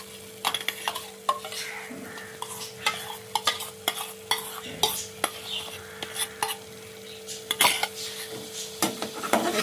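Sour yogurt stirred into frying fish masala in a pan, with a soft sizzle underneath and repeated scraping, clinking spoon strokes against the pan at an irregular pace, close and fairly quiet.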